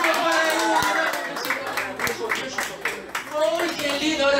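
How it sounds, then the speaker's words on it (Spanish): Audience at a children's magic show applauding a three-year-old girl, loud scattered clapping mixed with cheering voices and background music. "¡Aplausos para ella!"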